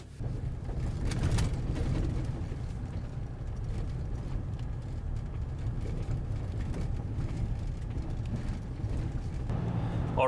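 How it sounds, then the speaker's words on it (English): A Dodge Ram truck with a particulate filter restriction and an exhaust filter 90% full drives along a road, heard as a steady low engine and road rumble from inside the cab with no talking. "Alright, so we are on the road, we are driving, the vehicle drives well"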